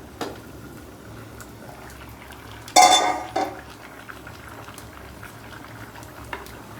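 Taro stem curry bubbling in a covered pot, a low steady simmer broken by a loud burst of clattering lid and utensil noise near the middle, then fading back to quiet boiling.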